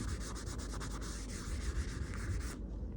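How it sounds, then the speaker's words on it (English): Steady, close sanding on the binding of an F5-style mandolin, a continuous rhythmic rasp of short back-and-forth strokes that stops abruptly near the end, with no talk. "So now it's a little bit of a sanding session"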